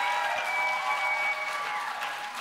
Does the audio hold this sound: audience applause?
yes